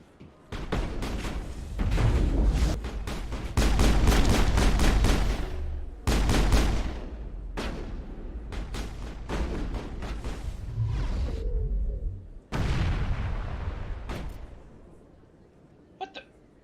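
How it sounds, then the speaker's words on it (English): Rapid bursts of gunfire from the video game Mass Effect, loud sustained volleys and clustered shots with brief gaps, tapering to quieter scattered sounds near the end. "Did he just shoot him through that wall?"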